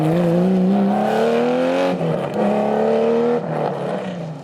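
Racing engines of a BMW and a Porsche 911 SC during a motorsport race, a loud sustained roar with shifting pitch as the cars rev and accelerate, close and continuous with a brief dip midway.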